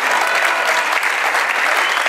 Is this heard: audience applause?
yes